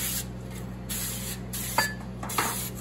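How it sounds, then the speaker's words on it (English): Steady hiss of cooking spray misted into a baking dish in a home kitchen, a continuous close spray broken by short pauses, with a couple of faint clicks. "now I'm going to spray this"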